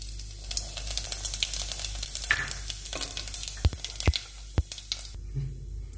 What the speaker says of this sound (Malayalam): എണ്ണ ചൂടായതിന് ശേഷം ഇതിലേക്ക് കുറച്ച് ജീരകം ഇട്ട് കൊടുക്കാം.